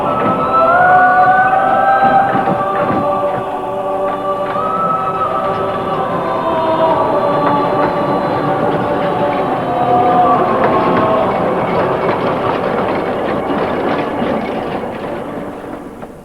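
Hunslet narrow-gauge steam locomotive running on the Leighton Buzzard Light Railway sand quarry line, a steady rumbling chuff with clanking wheels and a drifting whistle-like tone, fairly loud and continuous, fading slightly at the end.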